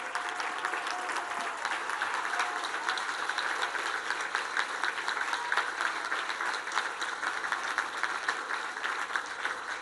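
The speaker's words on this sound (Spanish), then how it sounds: "Levántense para que les podamos dar un fuerte aplauso" A crowd at a hospital construction visit gives nurses and doctors of a home-health program a long, sustained round of dense applause, loud and even throughout.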